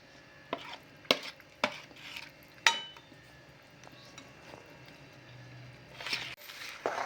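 A ginger pak mixture is stirred in a pan, giving faint, close, occasional sharp clinks and scrapes of the utensil against metal, spaced irregularly over a quiet background, with no talking.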